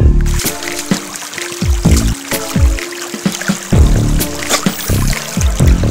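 Brook water trickles and gurgles over a cold, icy stream bed in spring, a close, continuous babble with small splashy bursts and no talking.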